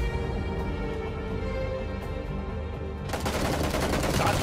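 Gunshots in the video game PUBG, a quiet stretch of game ambience that breaks into a loud, dense burst of rapid firing partway through.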